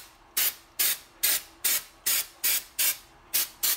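Spray paint hisses onto a model base for a painted Dragonball Z Cooler figure in nine short, even bursts, each about a third of a second long, loud and close with brief pauses between them.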